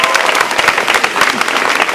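Audience clapping at a nature restoration rally, a loud, close, steady burst of many hands applauding throughout.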